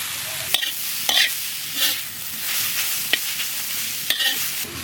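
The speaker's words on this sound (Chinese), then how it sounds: "锅里不倒油，下入酸菜，把水分往干炒一下。" Pickled sour cabbage (suancai) is stir-fried in a dry wok with no oil, giving a soft steady sizzle broken by several sharp scrapes and clacks of the spatula against the pan, close by.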